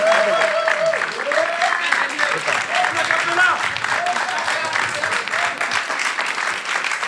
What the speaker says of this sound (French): On va le raccompagner avec beaucoup d'applaudissements